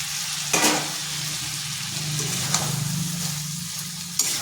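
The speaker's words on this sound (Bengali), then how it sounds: "এরপর এখানে দিয়ে দিচ্ছি আলু আর কাঁঠাল বিচি।" Potatoes and jackfruit seeds frying in a wok of cooked spice paste, a steady close hissing sizzle with a few sharp stirring clatters, no voices.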